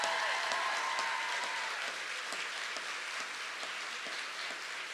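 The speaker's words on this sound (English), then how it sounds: "Give yourself a round of applause for stepping up." An audience at a state college service corps swearing-in celebration claps in a dense, crackling patter, fairly distant and soft, gradually easing, with voices faintly mixed in at the start.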